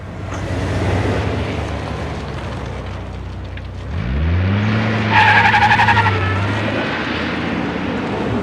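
A car drives with a loud, close engine roar, then tires squeal and skid in a long rising and falling screech over a steady rumble.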